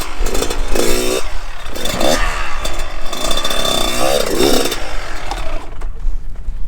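Kawasaki KX112 dirt bike engine blipping and revving in sharp bursts as the rider pops a wheelie over a log off-road, loud and close with rattling mechanical clatter.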